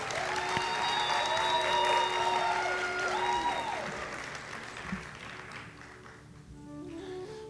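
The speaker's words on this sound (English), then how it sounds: "Please give a big round of applause." Audience clapping at a Bharatanatyam arangetram, a steady patter of hands that gradually thins and fades, with sustained tones and a few brief tonal notes sounding over it.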